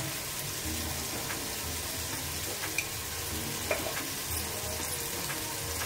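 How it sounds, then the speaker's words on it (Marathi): Chopped tomatoes and salt sautéing in a pan for a Marathi-style prawn masala, a steady close sizzle with occasional stirring scrapes and light taps, no voices. "टोमॅटो घालून छान असं परतून घ्यायचं"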